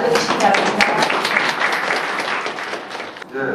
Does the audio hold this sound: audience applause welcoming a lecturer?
yes